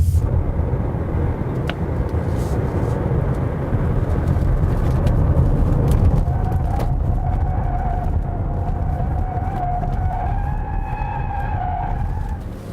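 A 2020 Kia K7 Premier Hybrid (Cadenza Hybrid) taking an uphill corner with slight front-tire slip, a steady loud road and engine roar inside the car, with a thin tire squeal rising toward the end.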